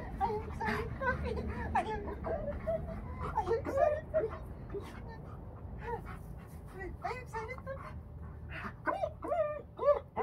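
A male puppy whimpers and pants excitedly while a person chatters to it in a high, playful voice nearby.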